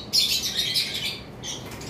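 A turquoise blue conure parrot lets out a sharp, shrill squawk that trails into raspy calls, followed by a second shorter squawk, close and fairly loud.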